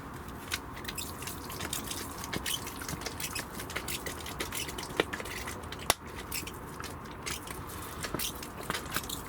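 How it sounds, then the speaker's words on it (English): Water trickling and dripping onto soil in a seed tray, with soft crackling wet patters and small splashes, close and fairly quiet, no voices. "give it one more watering"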